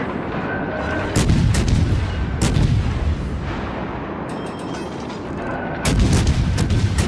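Heavy warship gun salvos in World of Warships: Legends, several loud booming blasts spaced a second or two apart over a rumbling battle background, close and dominant.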